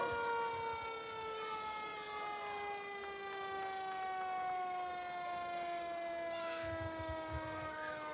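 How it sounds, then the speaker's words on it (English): Several fire engine sirens wail together at a parade in steady, overlapping tones, loud and continuous, with a low engine rumble underneath. "Remember to plug your ears for the sirens."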